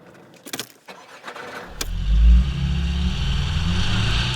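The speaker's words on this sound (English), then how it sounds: "we're going to accelerate up to 35 miles an hour" A car accelerating on a wet test track at 5 degrees on summer tyres, brief clicks and a thump before the engine swells loudly and holds a steady, close drone.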